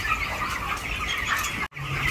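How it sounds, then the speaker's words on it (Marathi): Poultry chickens housed in a large shed of about 5,600 birds on a farm near Lakhewadi, Indapur, giving a dense, continuous chorus of clucking and wing flapping close by, with a brief cut in the middle and no talk. "5600 पक्षी आहेत आता सध्या शेडमध्ये."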